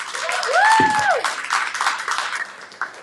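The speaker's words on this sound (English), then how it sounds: "Let's give her a round of applause." Short burst of applause for a guest named Hannah, a small group clapping up close, joined by a brief rising and falling vocal cheer, then thinning out.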